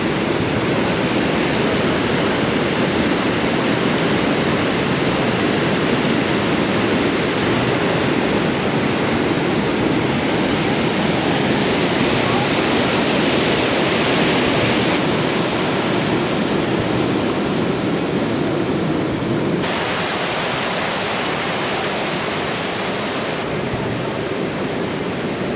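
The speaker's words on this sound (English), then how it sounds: "There's a lot of water coming down here." Upper Kananaskis Falls in the Canadian Rockies: a loud, steady, broadband roar of heavy water pouring down. It stays nearby and unbroken for the whole stretch, with no voices over it.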